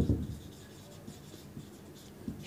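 Marker or chalk writing math on a board during a lesson, soft scratchy strokes in short bursts with pauses, close and quiet, no talking.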